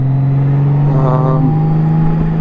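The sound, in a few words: riding a 2018 Honda Goldwing Tour motorcycle on the road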